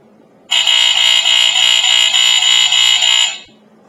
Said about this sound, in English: Not too many alarms with the electromechanical horns had the pulsating sound.